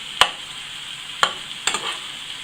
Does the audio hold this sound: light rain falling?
no